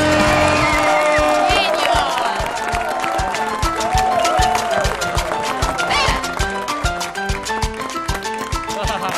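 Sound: studio audience applause and cheering

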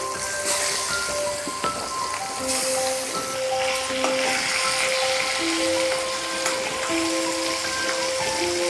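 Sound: fish pieces frying in oil

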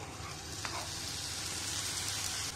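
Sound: chopped tomato sizzling in a frying pan

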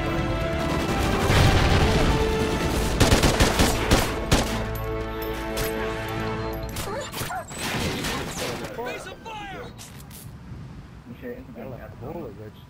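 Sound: SA 805 assault rifle gunfire in Call of Duty: Ghosts video game

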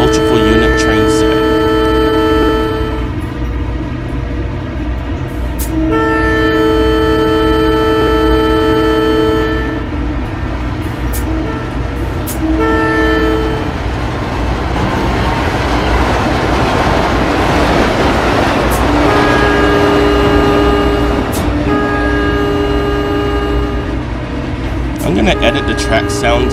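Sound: SEPTA Silverliner IV train sounds in Trainz 2019 video game

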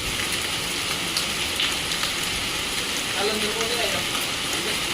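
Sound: heavy rain in Jalandhar

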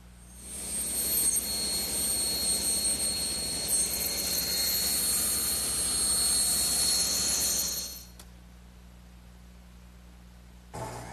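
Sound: saw ripping excess off wood molding

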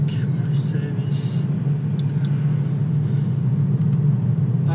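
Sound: Audi A4 Quattro car driving

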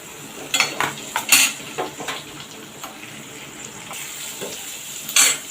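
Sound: chopped onion being sautéed in oil in a pan

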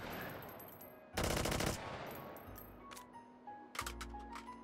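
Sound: bullpup rifle gunfire in Hot Dogs, Horseshoes & Hand Grenades VR game

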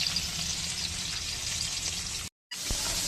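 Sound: fish frying in oil

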